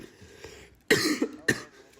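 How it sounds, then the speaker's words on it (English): Two or three short, harsh coughs burst out close to the mic, with a little throat noise between them in a quiet room. "Sorry for the coughing"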